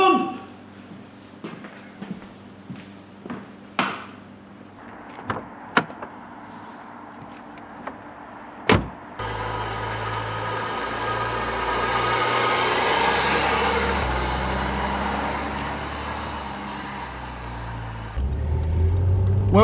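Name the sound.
Rover 75 V6 executive car driving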